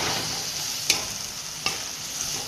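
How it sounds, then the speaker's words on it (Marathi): Onions frying in a pan as they turn red, a steady close sizzle with two sharp scrapes of a spoon stirring them. "मस्त असा कांदा लाल होत आलाय, तरी आणखी 2-3 मिनिटं लागणार आहेत त्याला।"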